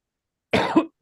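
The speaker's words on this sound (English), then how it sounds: "That's literally just coughing." One close, loud cough from a person, a short rough burst followed by the start of a second cough, set against otherwise dead silence.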